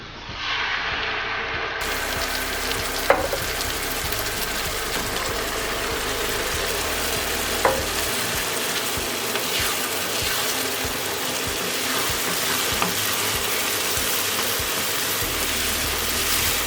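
Canned-tomato menemen simmers in a pan over fried onions, a steady broadband bubbling and hiss with faint scattered clicks, alone without talk throughout.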